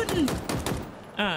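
Bursts of gunfire in the shooter game Halo Infinite, loud and close, with a voice talking over the shots before a sustained tonal game sound enters near the end.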